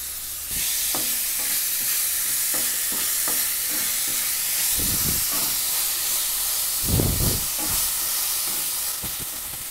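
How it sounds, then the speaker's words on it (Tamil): Onions, three green chilies and ginger-garlic paste sauté in a pan for a fish gravy. A continuous oil sizzle and hiss runs close by, broken by occasional stirring scrapes and a couple of louder clatters. "3 பச்சை மிளகாய், 1 ஸ்பூன் இஞ்சி பூண்டு பேஸ்ட்டு சேர்த்து இதை நல்லா வதக்கிக்கலாம்"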